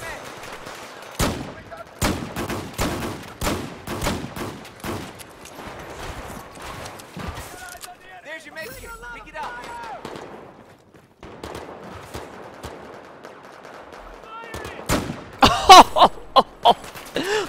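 A .44 Magnum revolver fires in Battlefield 4: loud single shots crack out at irregular intervals, with a quick cluster near the end, over quieter game background and someone talking.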